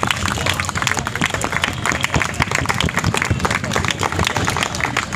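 A large school workshop audience claps loudly and continuously, a thick, unbroken roar of hands with crowd noise and voices mixed in throughout.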